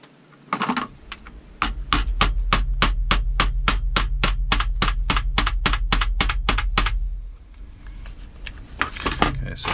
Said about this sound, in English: Just winding that up nice and tight.